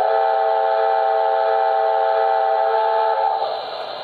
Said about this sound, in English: This is the whistle that comes factory standard.